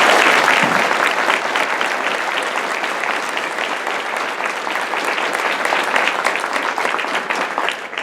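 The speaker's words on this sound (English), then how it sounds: "Can we get a round of applause for everyone on the phone?" Steady applause from a room of people at a press announcement for a hospital and cancer center partnership, dense and continuous clapping that holds evenly for the full span without dying down.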